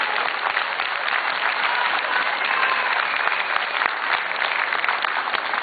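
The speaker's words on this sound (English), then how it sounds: "I think we should give her a round of applause" A rally audience claps continuously at a Hartford tax day event, a dense, even wash of many hands held at a steady level for several seconds with no voices on top.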